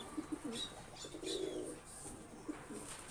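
A low-flying white-eyed Madras pigeon coos in soft, low, rolling calls, a few short notes and then a longer burble, heard faintly without any talking.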